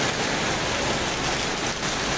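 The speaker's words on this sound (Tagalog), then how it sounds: "dito kami inabot ng malakas na ulan" Heavy rain pours steadily in Lucban, Quezon, a dense, loud, continuous hiss with no breaks and no voices.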